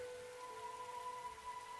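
Steady rain falls in the video game The Hundred Line, a soft even hiss with faint tonal game music sustained underneath, no voices.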